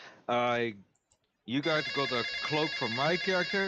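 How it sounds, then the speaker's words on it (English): A phone rings with a steady electronic ringtone, loud and close, starting after a short spoken line and continuing beneath a second voice as people keep talking. "That's a phone."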